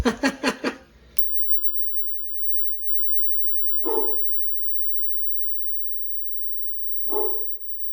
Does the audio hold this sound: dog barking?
yes